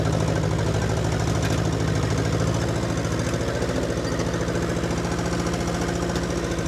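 A 1952 Ferguson TEA 20 tractor engine runs outdoors on a cold spring day, chugging in a loud, steady rapid knock that sharpens into a more distinct pulsing beat partway through, with no talking.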